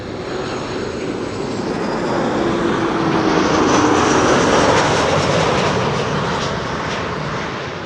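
KLM Boeing 737-800 arriving at Amsterdam Schiphol from Billund, a loud, steady jet engine roar that swells to a peak mid-pass and eases slightly as the airliner goes by, with no voices.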